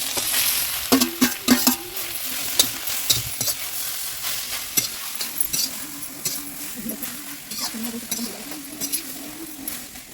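Ghee sizzling in a kadhai set over a clay chulha, a steady frying hiss broken by repeated sharp clinks and scrapes of stirring, close and fairly loud, with no talk.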